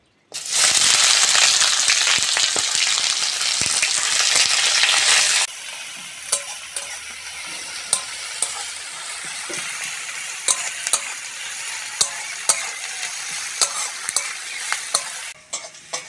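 Sliced onion drops into hot mustard oil with burnt sugar in a kadai: a loud, roaring sizzle for about five seconds, settling into a steadier, quieter fry with sharp crackles and pops.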